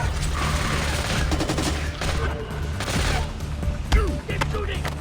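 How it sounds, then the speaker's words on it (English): Bursts of automatic gunfire and mechanical clatter in the co-op video game Splinter Cell: Conviction, dense and continuous over a busy game soundscape, with voices shouting in the mix. "Keep shooting!"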